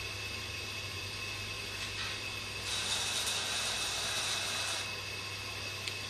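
An auger bores a long hole through wood, a steady mechanical whir and hiss that swells and roughens for a couple of seconds mid-clip as the bit is fed in, with a small tick near the end and no speech.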